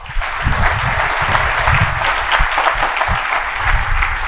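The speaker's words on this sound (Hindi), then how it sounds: "एक बार अपने लिए ताली बजा लो" An audience at a motivational lecture claps together in a dense, continuous wash of applause that holds steady and close for several seconds, with no talk over it.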